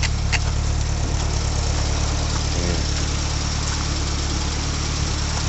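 A 1980 Mini 1000 Automatic idles just after start-up on a warm day with a little choke, a loud, steady, close engine drone holding constant throughout with no voices.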